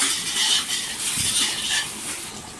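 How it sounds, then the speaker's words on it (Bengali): Duck meat sautéed in a pan for duck curry makes a close frying hiss with clinks and scrapes of a spoon stirring against the pan, short and unbroken, no talking. "আমি মাংসগুলো 10-15 মিনিট ভালো করে কষিয়ে নিব"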